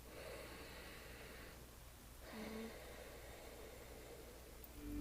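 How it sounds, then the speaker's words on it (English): Ujjayi yoga breathing drawn in and out through the nose and the back of the throat gives a hollow, hissing rasp, very faint and close, with a brief pause between breaths. "So that's like an example of ujjayi breathing if you didn't know what it was."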